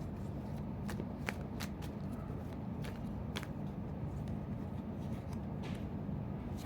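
Tarot cards are shuffled and picked during a card reading, giving a steady, soft riffle with light flicks and taps. The close, continuous sound runs throughout, with no voice over it.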